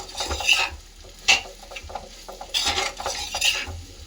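Cut raw mango is stirred in a pan to make mango pickle, a spoon scraping and clinking against the metal in several irregular bursts with soft sizzling between strokes.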